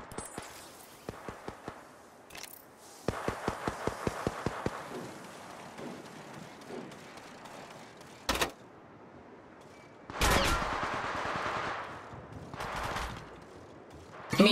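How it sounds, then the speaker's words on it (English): Gunfire in Apex Legends comes in rapid automatic bursts of sharp cracks, some evenly spaced in quick strings, others in longer rattling volleys, with single louder shots between and game sounds underneath. "The enemies are shooting at me."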